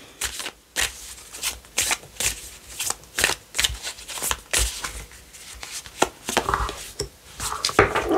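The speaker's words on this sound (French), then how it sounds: "Donc je vais tirer les cartes au moment où vous regardez la vidéo" Tarot cards are shuffled and drawn in quick, crisp bursts of riffling and slapping, close and fairly loud, in an irregular rhythm with no talking.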